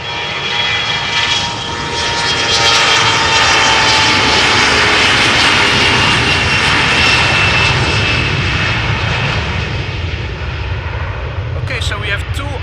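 Airliner engines roaring loudly at Amsterdam Schiphol during an aborted takeoff, a sustained powerful jet rumble that swells and then gradually eases off.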